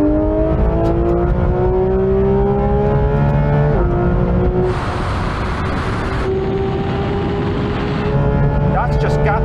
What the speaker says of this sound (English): now we're going for a rolling race from 50 miles an hour, this time with the cars in third gear.